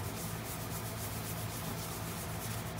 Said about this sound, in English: Rub it by hand, get the entire surface covered.